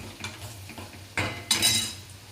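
Onion frying in oil with turmeric as a spoon stirs it in a pan, producing soft scraping and light clinks against the metal, with a louder stir about midway and a brief burst of sizzle near the end.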